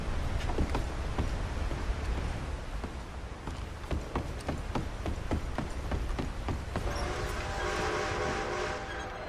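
A train approaching in the video game Red Dead Redemption 2: rhythmic clacking of wheels over rail joints under a low rumble, building and nearing, with a horn-like tonal sound rising near the end.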